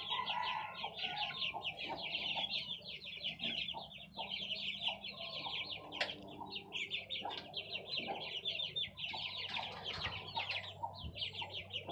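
Chickens cluck steadily and loudly throughout, several birds overlapping in a busy, continuous farmyard chorus with sharp higher calls above the clucking.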